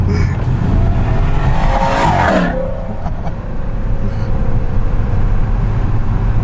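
A 625 hp supercharged BMW M3 E92 races a 700 hp twin-turbo V10 Audi RS6 sedan, a loud engine roar sweeping past at speed, then settling into a steady, heavy rumble.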